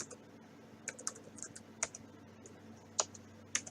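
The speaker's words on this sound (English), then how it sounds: "So to do that, we type pacstrap" Keystrokes typing a command on a computer keyboard, sparse soft clicks scattered across the moment over a faint steady hum, with a few sharper taps standing out.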